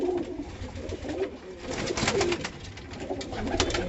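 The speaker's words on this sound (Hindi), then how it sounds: "ये हरी आँख का कबूतर है जी।" Green-eyed domestic pigeons coo in soft, repeated throaty bursts close by, several birds overlapping in a fancier's loft with no talking.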